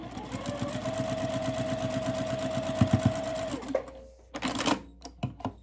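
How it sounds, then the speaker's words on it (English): Sewing machine stitching a quarter-inch quilt seam on cotton patchwork, running in a steady close whir for several seconds before stopping, followed by a few clicks and handling knocks. "I'm going to sew this direction"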